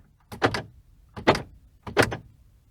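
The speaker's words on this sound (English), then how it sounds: "Pushing the latter, however, does result in a rather loud, hollow sound coming from the doors." Three separate hollow clunks, evenly spaced, the door locks of a 2017 Ford EcoSport 1.5 Ambiente actuating, each loud and brief against near silence.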